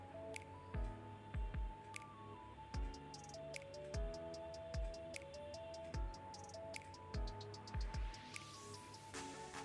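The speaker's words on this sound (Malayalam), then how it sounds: "എന്നിട്ട് നമുക്കൊന്ന് മിക്സ് ചെയ്ത് നോക്കാം." A spoon works a thick batter of maida flour, Boost and mashed banana, giving soft, wet squelching strokes at a steady pace over quiet background music.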